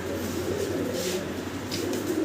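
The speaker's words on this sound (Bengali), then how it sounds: "এই যে ফ্রির কবুতর ডাকে কেমনে দেখছেন?" Pigeons for sale at a Bangladeshi pigeon dealer's, one bird cooing in low, steady, repeated throaty coos, fairly close, over a constant background hum with no talk.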